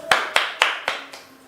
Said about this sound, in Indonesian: tepuk tangan dulu untuk Ibu Maimunah dan Ibu Santi